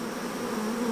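Honeybees and nurse bees crowding a frame from a homemade hive, giving a close, continuous buzzing drone with no break.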